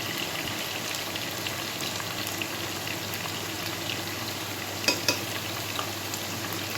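Spices with turmeric frying in a pan for a Bengali ridge gourd fish curry, a steady close sizzle and bubbling with light stirring scrapes and a couple of sharper clicks.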